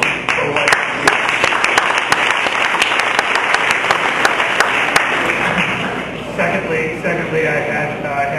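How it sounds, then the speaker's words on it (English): An audience claps at a medical marijuana enforcement division gathering, a lively mix of many hands with sharp individual claps standing out, a voice audible under the applause as it tapers slightly toward the end. "I think you should applaud yourselves for what you did."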